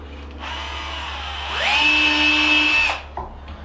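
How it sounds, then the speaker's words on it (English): A power drill with a 1/16-inch bit drills small pilot holes in cabinet doors, whirring up to a high, steady whine for about a second and a half, then cutting off. It is close and fairly loud. "There's a couple of small little pilot holes, and you take a 1/16 drill bit"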